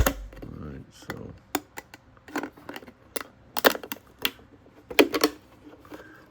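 A termite bait station is cut open with a tool, giving sharp, close clicks and cracks at irregular intervals over a low background.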